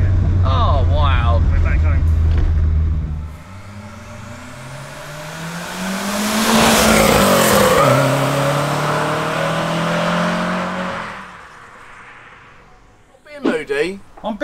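The engine of a Renault 5 Turbo 2 pulls hard, its tone climbing steadily in a loud, close run. It then eases off into a lower drone, and people talk briefly at the end.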